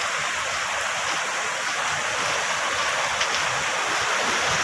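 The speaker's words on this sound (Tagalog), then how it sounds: "Ang gandang na small falls nila dito." A small waterfall in Iceland pours in a steady, close rushing hiss of falling water that stays constant and unbroken throughout.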